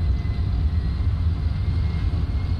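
Embraer E-195 jet engines spooling toward takeoff thrust in Microsoft Flight Simulator, a loud steady low roar with a broad rushing hiss above it, continuous and unchanging.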